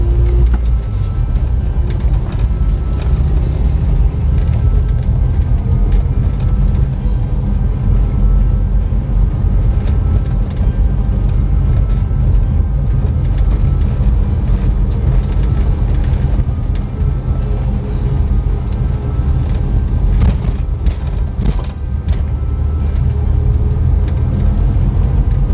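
A 2000 Honda Civic Ferio VTEC sedan drives over a badly broken road, giving a steady low rumble of engine and tyre noise with occasional bumps and knocks from the suspension throughout.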